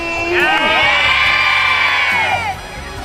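A group of junior high school students on a study tour shout and cheer together in a loud, sustained burst lasting a couple of seconds, then quickly fading.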